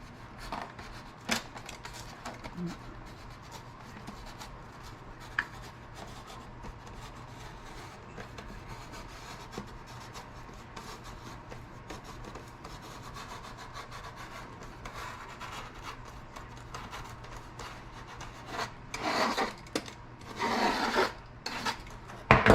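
Foam board parts of a custom build are trimmed by rubbing or filing, a faint, steady rasping scrape that runs on for over twenty seconds and grows slightly louder and busier near the end.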